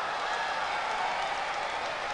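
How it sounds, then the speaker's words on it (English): Steady crowd cheering and applause at a theater performance in the video game Kira Kira, a continuous dense wash of clapping heard alone at moderate loudness. "They look impressive with all the cheering from the crowd"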